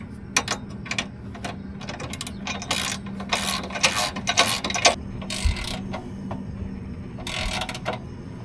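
Captive nuts on an Ariens IKON / Gravely ZT mower bagger hitch are tightened with a ratcheting tool, making a busy run of close mechanical clicks and rattles that continues steadily throughout.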